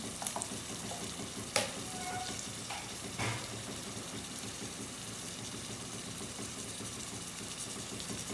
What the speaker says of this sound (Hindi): इसको फ्राई कर देंगे ताकि इसका कच्चापन जो है वो दूर हो जाए